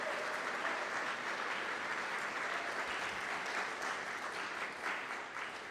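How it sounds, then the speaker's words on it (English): Audience applause at a bill signing by the Governor in Shoreline, steady, full clapping from a sizeable crowd that holds at an even level throughout. "How about a round of applause for Joe Fitzgibbon?"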